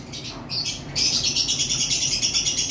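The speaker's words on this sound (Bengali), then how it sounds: "এখানে গ্রিন অপালাইনের একটা পাখি রয়েছে" Green opaline lovebirds chirping nearby in rapid, high, buzzy bursts, a short stretch of continuous twittering that gets louder after the first second.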